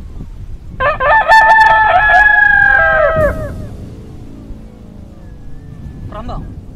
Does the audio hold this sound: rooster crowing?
yes